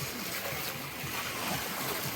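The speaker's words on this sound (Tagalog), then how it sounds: "nung tunog ng alon" Ocean waves on the beach at Ras Tanura wash in as a steady, broadband rush, a continuous surf wash with gentle swells and no talk over it.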